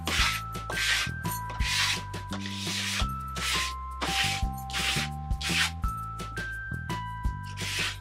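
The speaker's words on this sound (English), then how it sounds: "I'm going to scrape my paint down my page" An old credit card scraping paint down a paper page makes repeated rasping strokes, each a loud close drag lasting about half a second in a steady rhythm over soft background music.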